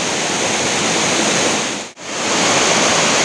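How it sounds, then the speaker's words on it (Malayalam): Water pours steadily over Choriyankunnu waterfall, a loud, close, unbroken rushing roar, with one brief dropout partway through. "അവിടെ നിന്ന് ഒഴുകി വരണ വെള്ളം അടിപൊളിയായിട്ട് ഒഴുകുന്നുണ്ട്. നല്ല അടിപൊളി വാട്ടർഫാൾസ് കൂടെ"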